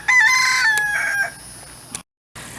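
A rooster crows once on a small farm, a loud, close cock-a-doodle-doo sliding down in pitch, followed by a brief clucking note and a short gap of silence.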